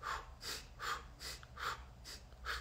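Rhythmic nasal breaths during alternate-nostril breathwork, a steady series of close, airy inhales and exhales repeating about every half second.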